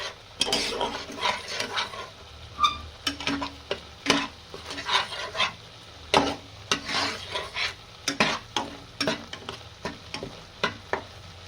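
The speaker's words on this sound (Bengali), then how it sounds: "পেঁয়াজটা ভালো করে ভেজে নিতে হবে" Onion frying in oil in a pan for prawn malai curry, soft sizzle beneath repeated sharp scrapes and clanks of a spatula stirring against the pan.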